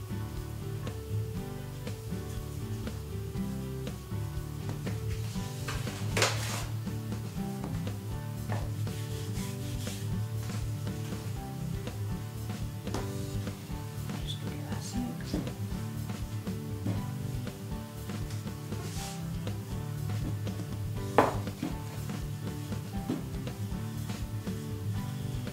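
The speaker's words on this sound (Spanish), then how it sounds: "Cogemos la mitad de la masa y empezamos a estirarla para hacer una de las dos partes de la empanada." Empanada dough for a vegan soy-filled empanada being rolled out, soft repeated rubbing and rolling sounds against a wooden surface, quiet and steady, with an occasional light knock.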